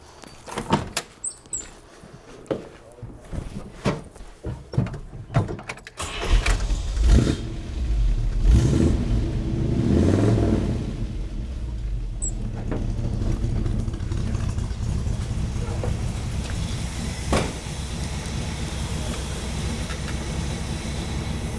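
A 1963 Buick LeSabre nailhead V8 cranks and fires up after several clicks and clunks, then settles into a loud, steady close-up idle with a few blips of revving.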